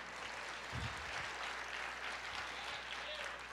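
A church congregation applauds during a sermon, a steady wash of clapping from a large crowd lasting throughout, moderately distant, with a few low murmurs or voices mixed in.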